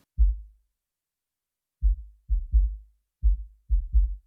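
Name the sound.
sub kick drum in music production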